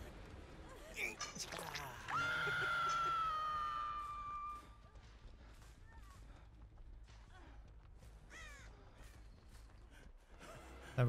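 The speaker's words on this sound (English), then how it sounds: "Oh, just a crow." A crow in the horror game Dead by Daylight gives a single drawn-out caw, loud and close, rising out of quiet game ambience with scattered bird chirps afterward.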